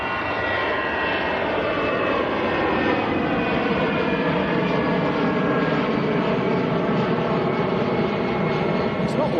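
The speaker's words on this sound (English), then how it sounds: "So I think this is that the Star Alliance getting airborne?" A Star Alliance airliner roars down the runway and climbs away at Manchester Airport, a steady, broad, loud engine rumble with a whining tonal layer, sustained throughout with no break.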